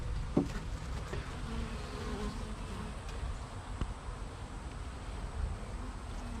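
Honey bees buzzing at a queenless, weakened hive taken over by a swarm, a dense continuous drone close by with no pauses, steady in loudness and alone without talk.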